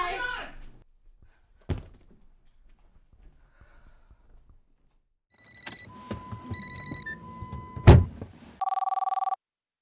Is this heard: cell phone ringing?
yes